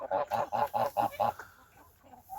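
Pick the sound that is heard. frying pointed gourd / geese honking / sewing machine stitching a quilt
geese honking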